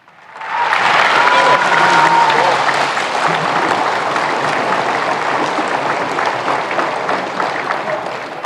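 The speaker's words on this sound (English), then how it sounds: "And a nice round of applause" A basketball arena crowd breaks into applause after the retiring of the colors at a men's college game, rising quickly into loud, dense, sustained clapping with faint whistles.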